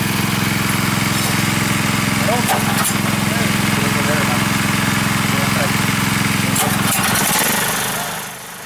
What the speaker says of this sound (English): Now we're ready to start drilling.